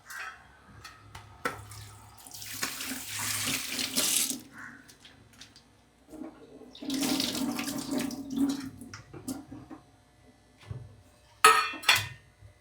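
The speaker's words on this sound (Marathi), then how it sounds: "स्वच्छ धुवून घ्यायची आपण" Tap water runs and splashes over coriander and garlic being rinsed in a kitchen sink, in two long loud stretches with quieter handling and clinks of utensils between them.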